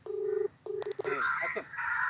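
A telephone call rings out over a speakerphone, giving two steady electronic ringback tones followed by a brief garbled burst of line noise.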